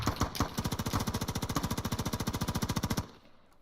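Sustained automatic rifle fire in the Squad military shooter game: a long rapid burst of evenly spaced shots, loud and close, cutting off abruptly near the end.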